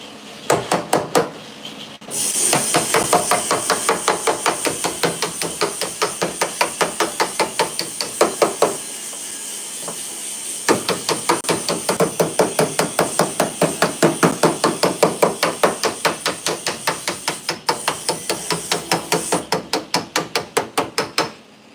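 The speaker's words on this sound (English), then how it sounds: "And then I'm hammering dollying that." Rapid steel hammer blows on a heel dolly as a rear lower quarter patch panel on a 1968 Pontiac LeMans is worked, loud ringing metallic strikes in long steady runs with a few brief pauses.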